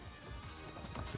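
A horse gallops in Crimson Desert, its hooves drumming quickly at low volume for a bare second, with no voices.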